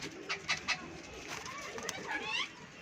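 Fancy French pigeons kept as a breeding pair with young, giving soft, faint cooing calls in a quiet setting while someone talks close by.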